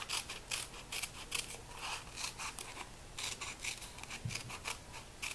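Repeated snips of scissors cutting paper for a planner, a steady series of close, crisp cuts with no talking.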